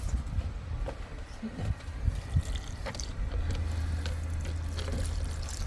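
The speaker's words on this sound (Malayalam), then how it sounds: "അവിടെ ഇച്ചിരി വെള്ളം ഒഴിച്ചു കൊടുക്കാം" Water poured onto a repotted outdoor plant in a steady, close stream that trickles and splashes softly, with a low hum underneath.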